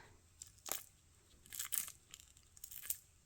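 Cured brown and orange resin flower coaster crunching and crackling as it is pried out of a flexible mold, several faint, crisp bursts in irregular succession, close up and otherwise quiet.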